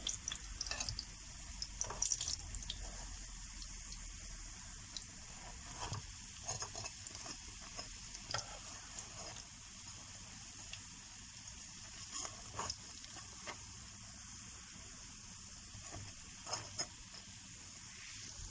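Börek pastries frying in a pan on the stove, with a soft steady sizzle and occasional light clinks and scrapes close by, faint and continuous, with no talk.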